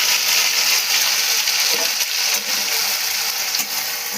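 Green pea paste sizzles loudly in hot oil while being stirred, a bright, hissing crackle that stays close and constant throughout with small scraping bumps from the spoon.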